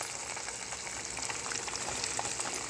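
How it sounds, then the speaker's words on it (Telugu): A large onion fries in a pan with a ground paste of chili, garlic and cumin while a cluster-bean and coconut curry is being cooked. It makes a steady, close sizzle with faint crackles throughout and no talking. "సో ఆ పెద్ద ఉల్లిపాయ మొత్తం నేను వేసేసాను. వేసేసి ఇలా ఫ్రై చేసుకోవాలి."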